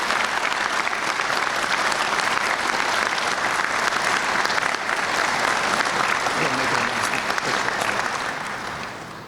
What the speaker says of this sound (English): let's have a huge round of applause for all our recipients here today